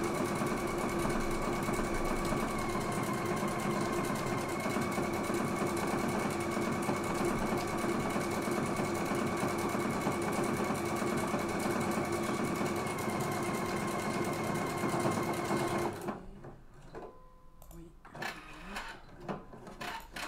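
A Husqvarna Viking Epic 2 embroidery machine stitches in a loud, steady mechanical whir with fast rhythmic needle clatter for about sixteen seconds, then stops, leaving a few quieter clicks and handling sounds.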